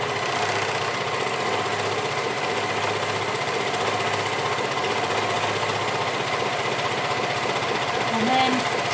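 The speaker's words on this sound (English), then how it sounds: "Let the overlocker start stitching before you put the fabric under the foot." A Janome MyLock 634D overlocker runs steadily, its fast mechanical stitching whir continuous and fairly loud throughout, with a brief faint squeak near the end.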